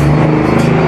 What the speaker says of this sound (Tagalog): Padaanin muna natin yung dumadaan na sasakyan.